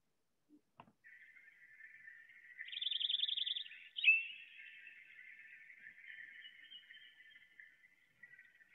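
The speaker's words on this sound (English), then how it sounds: "So this is the brewer sparrow." A Brewer's sparrow sings alone against a quiet background: a thin, high, even whistle that breaks into a fast, buzzy, rattling trill, then a sharper note and a long, softer run of wavering whistles.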